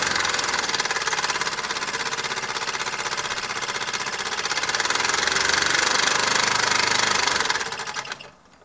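A 1972 Mamod SR1a toy steam roller runs in reverse with a fast, even mechanical chuffing and clatter of its piston close up, swelling slightly before fading out near the end.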